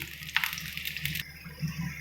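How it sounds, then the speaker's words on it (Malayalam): Gooseberries spatter and crackle in hot oil, a steady frying hiss broken by sharp pops, close by with no talking. "അത് നീര് ഇറങ്ങുന്നതുകൊണ്ടാണ് പൊട്ടിത്തെറിക്കുന്നത്"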